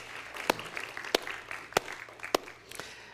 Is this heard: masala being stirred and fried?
no